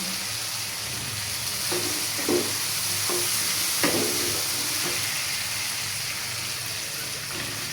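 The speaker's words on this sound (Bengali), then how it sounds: "আদা রসুনটা ভালো করে বাজা নিলাম, কাঁচা গন্ধটা বের করে দিলাম" Ginger, garlic and capsicum fry in a pan for chilli chicken and fried rice, with a continuous close sizzle and a few scraping stirs and utensil knocks.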